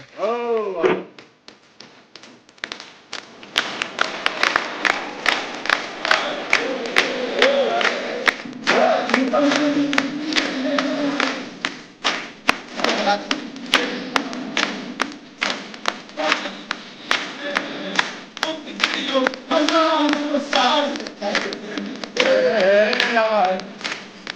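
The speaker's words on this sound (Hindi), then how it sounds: "अरे सिर्फ ताली बजाते रहोगे क्या?" A studio comedy-show audience claps and cheers in repeated loud bursts, with a voice talking over the applause at intervals.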